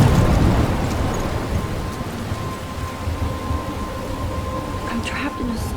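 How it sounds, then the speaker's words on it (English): Thunderstorm with heavy rain in the video game Life is Strange, a dense steady rain wash with low rumbling thunder, loudest at the start and easing slightly, with a faint tonal hum underneath. "I'm trapped in a storm?"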